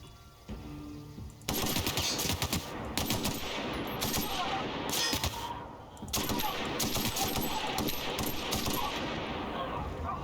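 Rapid rifle fire in The Outer Worlds, bursts of sharp cracks arriving in clusters with short gaps between them, loud and close over a low game background.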